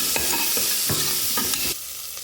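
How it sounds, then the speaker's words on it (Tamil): Large onions stirred and sautéed in a pan for vegetable kurma, with a loud close sizzle and several spoon scrapes in a loose rhythm, then the frying drops quieter near the end. "நல்லா வதங்கிட்டோம். அவ்வளோதான், வெங்காயம் வதங்க."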